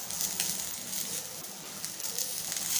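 Chicken liver pieces fry in a pan with curry leaves, giving a steady, close, bright sizzle and hiss that stays fairly constant throughout, with no talking.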